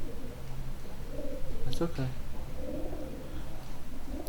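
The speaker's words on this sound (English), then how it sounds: "Pigeons." Pigeons coo briefly inside an old prison, a soft pair of low throaty calls in the middle of the clip, partly under quiet talk and background hiss.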